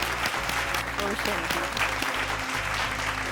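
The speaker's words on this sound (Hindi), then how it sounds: "जोरदार तालियों के साथ स्वागत कीजिएगा" Applause at a televised talk show welcoming an achievement award winner from the banking industry, a steady dense wash of clapping with some voices faintly underneath.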